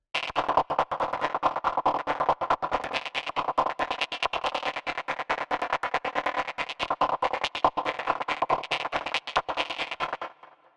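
A Spire synthesizer psytrance preset plays a fast swung arpeggio, loud, dense and distorted, with rapid rhythmic pulses running continuously for about ten seconds before stopping.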